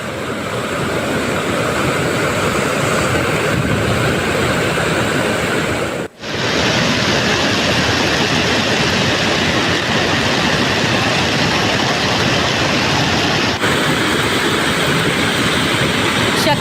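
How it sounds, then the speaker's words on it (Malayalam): A flash flood surges down the Thottilpalam river in Kozhikode, Kerala, after heavy rain, a loud, unbroken roar of rushing water close by that cuts out for a split second midway. "ശക്തമായ മഴയിൽ തൊട്ടിൽപ്പാലം പുഴയിലും മലവെള്ളപ്പാച്ചിലാണ്"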